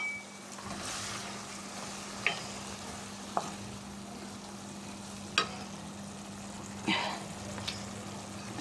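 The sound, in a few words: small fish, cauliflower and potato frying with spices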